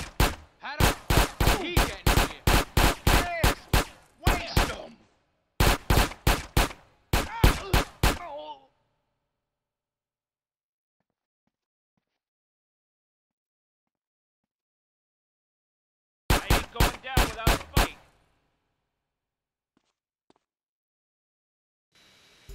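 Bursts of rapid gunfire in GTA San Andreas Definitive Edition, loud and close, in two volleys over the first eight seconds, then a long silence before one more short volley.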